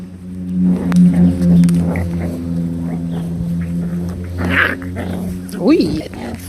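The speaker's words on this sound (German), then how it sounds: "Ui, ein tollendes Hundeknäuel." Jack Russell puppies about six and a half weeks old tumble together in play, giving small growls and yips close by while people talk over them.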